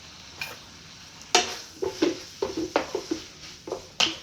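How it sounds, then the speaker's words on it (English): Pasta sauce being stirred in a pan, with a string of soft clinks and scrapes from a utensil against the pan over a gentle sizzle, fairly close, and no talking. "And I'm gonna mix that around."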